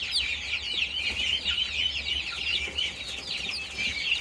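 A tiny bantam chicken clucks and peeps in quick, busy bursts close by. The calls run steadily over a faint low background hum, with no voices.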